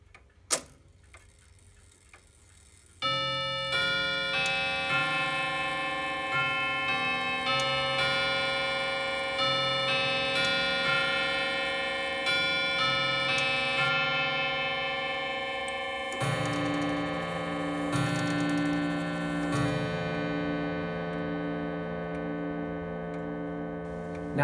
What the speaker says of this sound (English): it's just nice to hear one that's a little different striking on a gong.